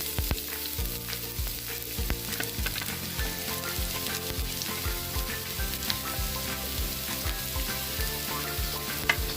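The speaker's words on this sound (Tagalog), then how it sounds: "Lagyan muna natin ng konting mantika. Tapos, isahin natin ang bawang at sibuyas." Garlic and onion sautéing in a little oil for Filipino spaghetti, a steady close sizzle with frequent scraping stirs and clinks, no talking.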